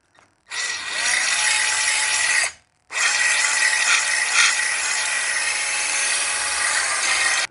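A Milwaukee M12 cordless drill whirs at high speed in two bursts, a short one then a longer steady run, close and loud.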